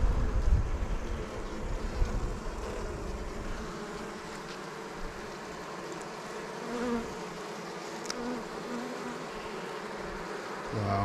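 Honey bees in an open beehive, a dense, steady, droning buzz filling the whole stretch, close and continuous, with light wind rumble and no talking.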